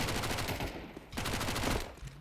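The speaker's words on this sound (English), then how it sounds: "just start gunning him with the SMG" SMG fire in Counter-Strike on the Inferno map, rapid dense bursts of automatic shots with a brief pause midway before firing resumes, loud and close.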